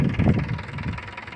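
A tractor's engine runs at idle, a steady low, rough mechanical rumble with slight knocking that is strongest in the first half and eases a little toward the end of the short stretch.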